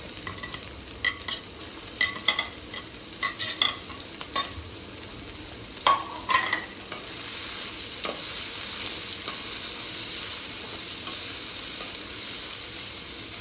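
Leftover idli pieces frying with garlic in a pan until golden, a steady close sizzle with repeated sharp spatula scrapes and clinks in the first half, then a smoother hiss.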